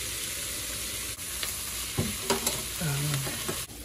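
Filet mignon sears in a hot pan with a steady close sizzle, broken by a few scraping clinks and shuffles as the meat is turned, no talking over it.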